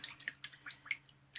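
Water drips and trickles from a wetted shaving brush, a quick irregular series of small, faint, close splashes with nothing else around them.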